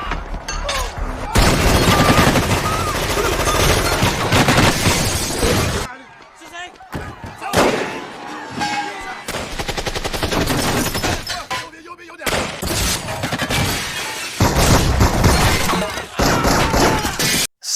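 An action-film gunfight with Jason Statham and Jet Li erupts in dense, loud bursts of gunfire, shattering glass and heavy impacts, broken by a short lull before the shooting resumes at full intensity.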